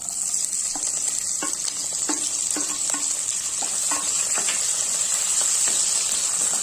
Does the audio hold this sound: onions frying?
yes